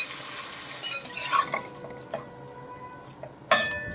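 Chicken marinated with ginger and garlic is stirred in a pan, giving soft scraping and sizzle with a few metallic clinks of a utensil against the pan, close and fairly quiet.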